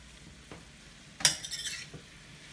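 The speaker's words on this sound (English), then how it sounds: "Now we drop in, turn off the flame, drop in tomatoes" Grape tomatoes dropped into a pan of sautéed kale with the flame off, giving a brief clatter and soft rustling thuds, with a faint tap before and after; quiet and close, with no talk.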